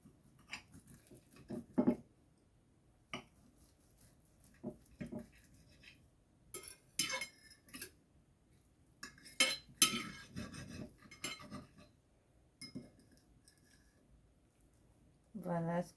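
A knife or cutlery cutting into a golden, cooked Belgian potato dish in a dish, heard as scattered soft clinks and scrapes, with a person talking between them.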